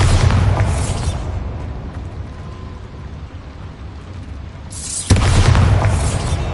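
Spell blasts from a Harry Potter game: two big booming explosions, the first fading into a long rumbling decay before the second hits hard, loud and alone.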